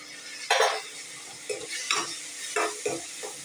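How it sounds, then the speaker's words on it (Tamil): Chopped tomato, onion and curry leaves sautéing in a pan, with a few distinct scraping stirs of a spoon over a soft sizzle, close and without speech. "இது கொஞ்சம் நல்லா வதங்கட்டும்."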